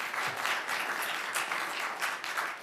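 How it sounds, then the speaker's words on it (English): Audience applause fills a governing body meeting chamber, a steady dense wash of many hands clapping that holds at an even level throughout, with no talk over it. "I'm going to have to request you not applaud, please"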